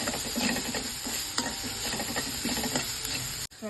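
Onions fry with salt in a pan for potato Manchurian, giving a steady, close sizzle with scraping stirring strokes throughout and no voices.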